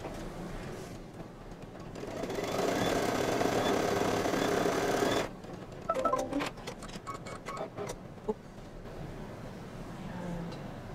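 An embroidery machine stitches the placement outline for a watermelon quilt block, a soft steady mechanical whir for a few seconds followed by irregular ticks and clicks as it slows and stops.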